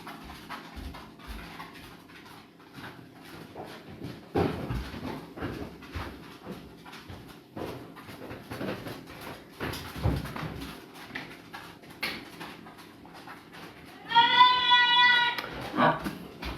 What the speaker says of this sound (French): c'était un chien qui veut rentrer